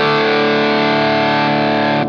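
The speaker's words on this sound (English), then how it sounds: "Much brighter, much more aggressive. Again, almost a hard clipping distortion type of sound here." An electric guitar plays through an ST9 Pro Plus overdrive pedal into an amp, giving a bright, aggressive, hard-clipped distortion. A single sustained chord rings loud and steady, then cuts off abruptly.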